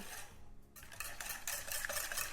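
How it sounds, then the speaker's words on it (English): A wire whisk beats egg into cake batter in a bowl for wedding cake tasters, giving a continuous wet scraping and clinking against the bowl that builds slightly louder toward the end, with no voices. "I am using a whisk not to incorporate air, but I find when you add the egg, the whisk kind of breaks it up a bit more"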